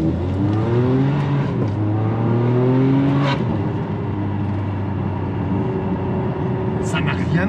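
A Ferrari 599 GTB fitted with an X-pipe exhaust and short springs pulls away on the road, its engine revving up through rising tones, easing off, then blipping again. Voices murmur faintly inside the car.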